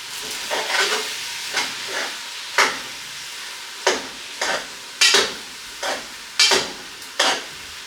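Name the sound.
stirring asparagus and garlic shrimp in a pan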